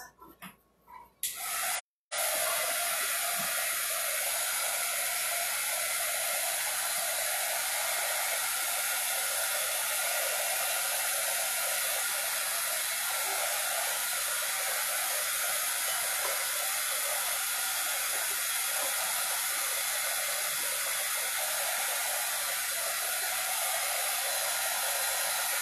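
A heat gun blows steadily onto the epoxy coating of a ceramic coffee mug, a loud continuous airy roar that runs unbroken after a brief stutter at the start.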